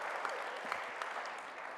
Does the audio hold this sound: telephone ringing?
no